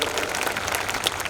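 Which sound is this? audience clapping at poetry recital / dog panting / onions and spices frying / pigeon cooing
audience clapping at poetry recital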